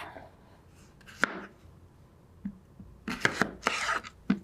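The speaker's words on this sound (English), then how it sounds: "And again, we're just dicing this up." A knife dicing an English cucumber on a board, scattered crisp chops with a few quick clustered cuts toward the end, close and fairly quiet.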